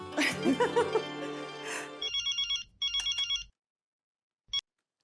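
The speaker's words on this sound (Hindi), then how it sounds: "हाँ अंजलि, बोलो, कैसे फोन किया?" A phone ringtone plays in repeated electronic bursts, starting under a voice and then continuing alone before a final short chirp.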